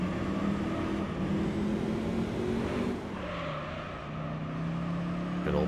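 Car engine in the Gran Turismo 3: A-Spec racing game on PS2 during a night street drive, a steady loud hum with sustained tonal drone that dips in pitch partway through, with no talk.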